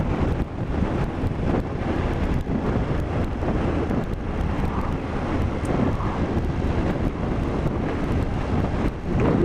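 Steady, loud wind buffeting a rider's microphone on a BMW F750GS motorcycle on a chilly day, a dense continuous roar that holds without a break for the whole stretch.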